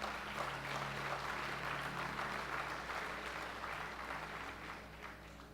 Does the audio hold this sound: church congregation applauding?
yes